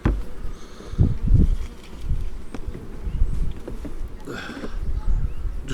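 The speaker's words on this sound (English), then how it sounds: "Just sweeping the poor sleepy bees back in." Honeybees buzz in a low, droning swarm close by around a hive frame, with soft brushing and shuffling sounds as bees are swept back in.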